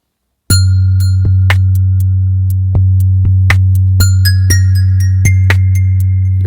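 Drambo synth pattern shifted down an octave: a steady low droning tone underneath sparse, ringing bell-like plucks that strike irregularly over several seconds, clean and alone with no voices.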